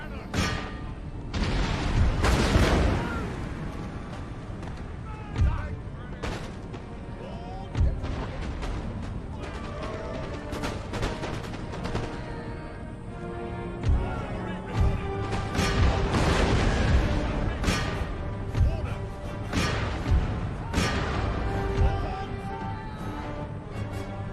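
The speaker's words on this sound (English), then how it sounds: "Any unit that gets close is just going to get smashed by the canister shot" Cannons firing canister shot in the Empire: Total War video game, repeated loud booms and crashing blasts scattered through the clip amid battle din, with someone talking over them.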